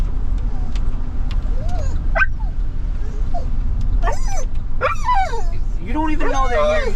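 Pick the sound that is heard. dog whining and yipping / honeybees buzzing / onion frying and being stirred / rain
dog whining and yipping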